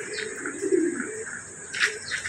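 Pigeons coo in soft, low, throaty phrases close by, with a few brighter chirps and a steady high insect-like whine running underneath.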